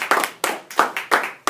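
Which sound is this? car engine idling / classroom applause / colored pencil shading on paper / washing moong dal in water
classroom applause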